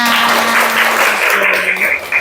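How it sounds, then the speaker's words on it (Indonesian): Applause from a class of vocal-technique students after group singing practice in a classroom, a dense steady patter lasting a couple of seconds, with a sustained tone and voices mixed underneath. "Beri tepuk tangan untuk kita semua"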